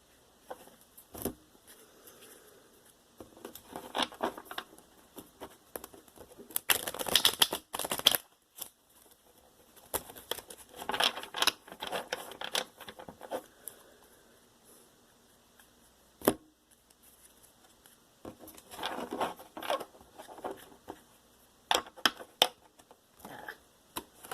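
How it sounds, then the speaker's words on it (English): Tarot cards are shuffled by hand in a quiet room, with irregular bursts of papery riffling and soft slaps separated by brief pauses, and no talking. "I'm going to start shuffling the cards, knock the energy out."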